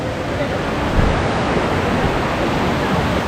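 Stream water rushes in a strong current near Muppochora Waterfall in Belaichhari, Rangamati, a dense, steady roar filling the whole moment without a break.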